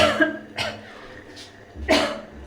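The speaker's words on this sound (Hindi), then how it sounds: "सब्जी को तड़का लगाया है तो इसलिए खांसी हो रही है।" Two or three harsh coughs burst out close by, separated by short pauses, with a faint low hum in the background.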